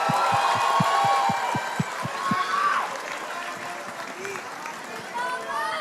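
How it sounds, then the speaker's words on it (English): Crowd applause at a live esports playoff event, rhythmic clapping and cheering in a large venue with an announcer talking over it, the claps fading into a general crowd roar. "let's give Falcons APBren a big round of applause"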